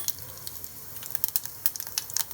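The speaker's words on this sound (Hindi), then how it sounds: "एहिमे आब हम 1 चम्मच जीर दऽ देबै छोटका चम्मच सँ" Cumin seeds hitting hot mustard oil in a pressure cooker, giving a soft, steady sizzle scattered with quick crackles and pops, close and fairly quiet, with no talking.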